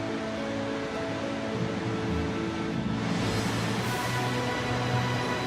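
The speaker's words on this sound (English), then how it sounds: "Small waterfalls can be seen energetically bubbling in mountain streams." Small waterfalls bubbling in mountain streams, a dense continuous rush of water that swells slightly partway through, with no voices.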